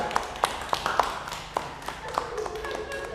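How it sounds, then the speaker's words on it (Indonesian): A small group in a microteaching classroom gives brief applause, a handful of sharp, separate claps spaced unevenly over a few seconds, with faint voices in the background. "Tepuk tangan terlebih dahulu."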